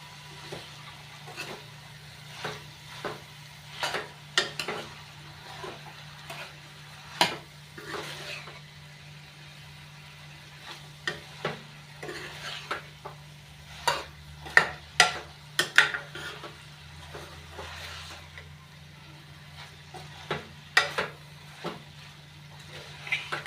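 Pumpkin sabzi (kaddu curry) is stirred in a pan, with irregular spoon scrapes and soft clacks against the metal over a faint steady hum, close and fairly quiet throughout.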